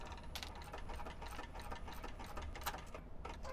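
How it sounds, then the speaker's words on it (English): A sewing machine back stitching at the start and end of a seam on a fabric wristlet, its needle running in a fast, even mechanical chatter close by and unbroken throughout. "So back stitching at the beginning and the end of your seam"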